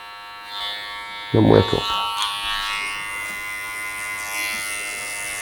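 Electric hair clippers buzz steadily while cutting a low taper on a man's haircut at the neckline, a close, constant hum running through the whole stretch, with someone briefly speaking over it.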